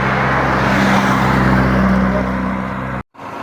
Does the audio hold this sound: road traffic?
yes